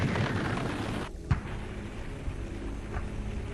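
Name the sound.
artillery barrage, Easter Offensive 1972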